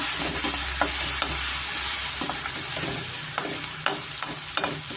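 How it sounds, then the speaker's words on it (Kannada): Green chili and ginger fry in oil on a medium flame for hotel-style shavige uppittu, a loud continuous sizzle broken by regular clicks and scrapes of stirring, close up with no talking. "ಮೀಡಿಯಮ್ ಫ್ಲೇಮಲ್ಲಿ ಸ್ವಲ್ಪ ನಾವು ಫ್ರೈ ಮಾಡ್ಕೋಣ"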